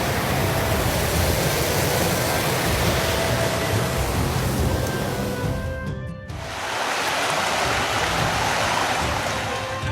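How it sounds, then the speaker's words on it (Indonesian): Steady, loud rushing water of the Curup Gangsa waterfall on the Wai Tangkas river, broken by large boulders, pours continuously, a dense broadband roar with a brief dip in the middle before resuming. "Aliran deras Sungai Wai Tangkas dari atas Bukit Punggur terpecah oleh bongkahan batu besar"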